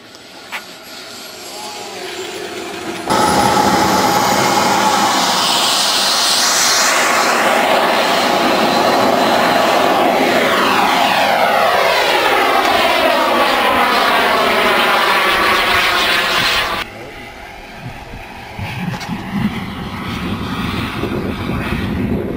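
A radio-controlled jet model airplane flies past with a loud, rising and falling turbine roar that sweeps overhead and fades, preceded and followed by quieter outdoor ambience.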